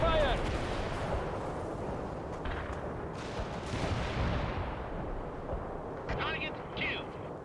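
Gunfire and artillery in the video game World in Conflict, a dense, continuous barrage of booming blasts and rattling shots, loud and close, with radio-style voices calling out over the fighting.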